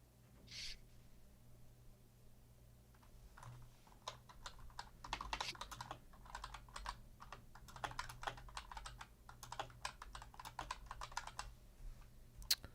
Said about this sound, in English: Excuse my old school keyboard there.